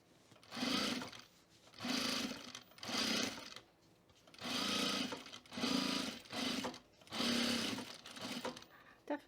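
A sewing machine edge stitches a book sleeve in repeated bursts of about a second each, separated by short pauses, close and steady with a whirring buzz.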